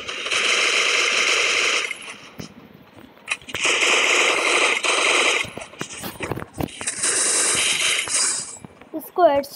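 Sustained bursts of rapid automatic gunfire from a video game come in three long volleys separated by short gaps, loud and close, with scattered clicks and brief sharp sounds between them.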